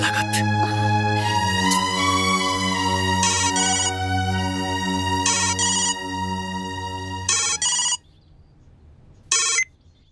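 A phone ringtone plays loudly and close, a sustained melodic electronic tune that continues for several seconds, then breaks into short repeated bursts separated by silence, with no talking.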